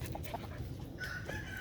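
A molting rooster named Tank, held up close in someone's lap, gives a few soft, scattered clucks over a steady low background hum.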